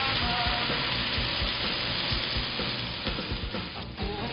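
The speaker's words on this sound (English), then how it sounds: "So let it simmer until the pork were cooked." Pork simmers in coconut milk with chilies, making a loud, continuous, close bubbling sizzle that holds steady and eases slightly toward the end.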